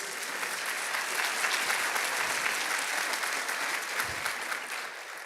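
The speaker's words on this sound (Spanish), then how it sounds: "Denle un fuerte aplauso, por favor, a ellos." Church congregation applauding students of a service leadership school, a warm, even wash of many hands clapping that holds steady for several seconds at moderate volume.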